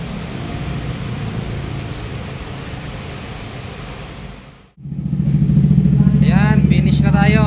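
A KTM motorcycle engine runs after routine maintenance, a steady loud rumble that cuts out briefly midway, then returns stronger while a person talks over it.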